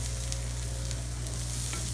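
Food sizzles steadily in a hot frying pan while being stirred, a dense, even crackle with soft scraping strokes and no voices.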